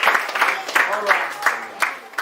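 Audience clapping for a school at a School Zone Liberia event, heard as loud rhythmic bursts of claps in a steady beat, with voices over the top.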